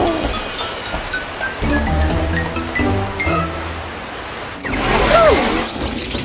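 A cartoon waterfall gives a rushing, noisy wash of water that swells louder near the end, with a few tonal effects and music-like bits mixed in and no talking.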